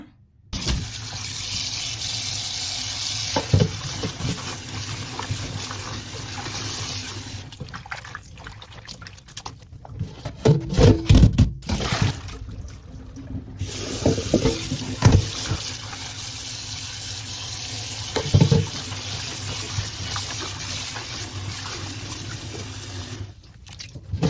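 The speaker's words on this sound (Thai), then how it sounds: "จากนั้นให้นำไปเทน้ำเกลือทิ้ง แล้วก็ล้างสักสองสามน้ำให้สะอาดหมดเกลี้ยงดีเลยนะคะ" Salt-soaked napa cabbage is rinsed for kimchi under running water in a sink, with steady splashing and gushing, some pauses and clatter, and renewed streams over about twenty seconds, with no talking.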